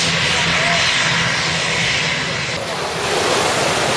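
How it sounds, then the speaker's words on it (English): A low-flying jet airliner roars just overhead as it comes in to land above a Caribbean beach, a loud continuous engine rumble with wind and surf noise, no talk. "the planes are just 12 feet above as they come into land"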